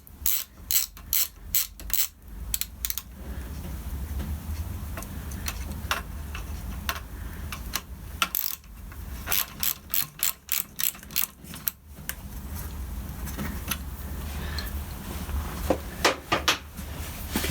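A ratchet tightens the handlebar clamp bolts on a Suzuki GSF 1200 Bandit under repair, giving loud, close bursts of quick clicking separated by short pauses, with no voices.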